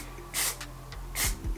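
Two short bursts of aerosol spray hiss up close, separated by a brief pause, faint low rustling underneath.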